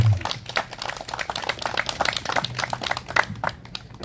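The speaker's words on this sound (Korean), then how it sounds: "박수 보내주시기 바랍니다." Applause from the audience at a Korean memorial ceremony for anti-communist youth movement martyrs, a dense patter of many hands clapping steadily for about four seconds at moderate volume, with no voices over it.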